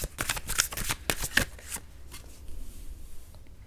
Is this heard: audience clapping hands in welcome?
no